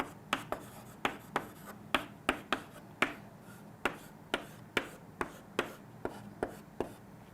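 Sharp, evenly spaced taps and short scratchy strokes of a pen or marker drawing a chemistry diagram, about twenty quick close strikes in a quiet room.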